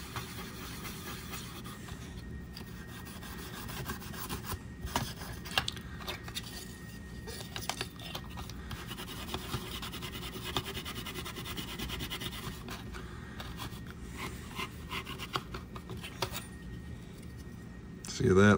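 A tool scrubs corrosion off N64 cartridge contacts with a steady, faint rubbing and scratching that runs on and on, with small clicks scattered through.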